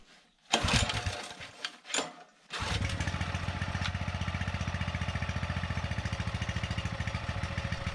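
A rented plate compactor's small engine is pull-started with the choke set, giving a couple of rough sputtering cranks before it catches and settles into a loud, steady, rapidly pulsing idle.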